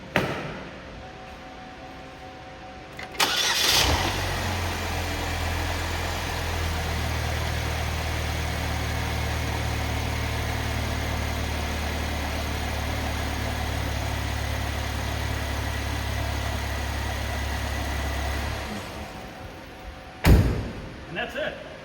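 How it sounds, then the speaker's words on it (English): A car engine cranks and starts, then idles with a steady low rumble for about fifteen seconds during a battery and parasitic load test before shutting off. A door thuds at the end, and a voice speaks briefly early on. "please start the engine"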